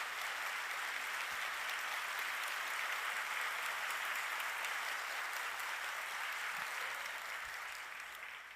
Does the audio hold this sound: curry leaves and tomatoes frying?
no